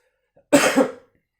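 One short, sharp cough, close and fairly loud, standing alone against silence.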